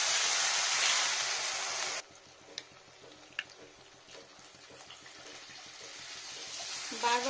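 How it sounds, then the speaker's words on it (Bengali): Water pours into a cooking pot for Bengali vegetarian mung dal, a loud rushing fill lasting about two seconds before cutting off, followed by quiet kitchen clinks and a faint sizzle. "এবার দিয়ে নেবো জল।"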